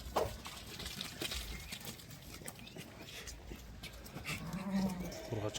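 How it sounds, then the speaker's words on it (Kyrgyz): Female lambs of a black Arashan sheep breed give a few short bleats among general pen noise and rustling, faint and fairly close. "Ургачы козулар."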